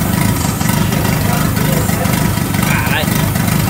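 A turbocharged VW Parati engine idles with no exhaust fitted, giving a loud, raw, steady rumble throughout, with a voice heard over it.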